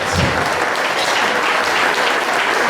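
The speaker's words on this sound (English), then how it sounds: "May I please get a round of applause for Miss Stephanie here?" A meeting audience applauds for Miss Stephanie in a steady, loud, dense burst of many clapping hands filling the whole moment without a break.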